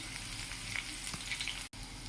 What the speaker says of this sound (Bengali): এরপর থেতো করে রাখা রসুনটা এই তেলের মাঝখানে দিয়ে দিলাম